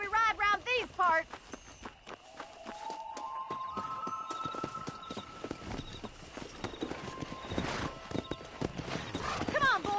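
Horse hooves clip-clopping at a steady riding pace in a video game, with a short whinny early on and voices talking over the hoofbeats and background music.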